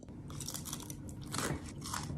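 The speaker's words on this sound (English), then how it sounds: "You hear that crunch?" Crispy food is bitten and chewed close to the mic, with a run of sharp crunches and crackles, the loudest burst in the middle, and no talking.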